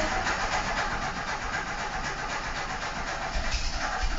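An Audi 80 carburetor engine on choke, heard from inside the car as a steady broadband engine rumble with no distinct catch or rev, fairly faint throughout.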